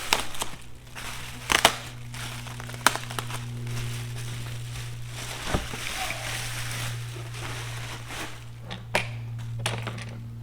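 New Jeep light packaging being ripped and torn open: bursts of crinkling and crushing across the clip, some loud and some soft, over a steady low hum, with no talking.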